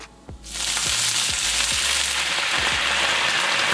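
Splashed into a pan of lightly browned garlic, white wine bursts into a loud, close sizzle that settles into steady bubbling, with a few soft utensil taps against the pan.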